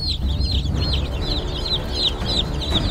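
Baby chicks in a crowded brooder, some attacking each other, a rapid series of high peeping cheeps repeated over three seconds above a low background rumble, close and fairly loud.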